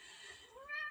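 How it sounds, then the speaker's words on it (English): A house cat gives a single close, clear meow that rises and swells toward the end of the brief moment, with no talking over it. "Can you hear my cat?"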